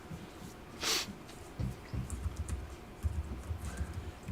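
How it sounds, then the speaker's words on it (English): Soft clicking of computer keys being typed at a public golf course clubhouse meeting, light and intermittent under room noise, with a brief breath or sniff early on. "All right, so, Richard, does the public see what you're typing?"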